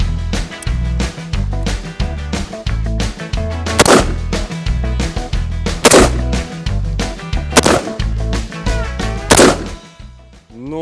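An AR-15 rifle or a shotgun fires at targets in a timed shooting drill, with about four sharp, loud shots spaced a second or two apart over a rhythmic, tonal background.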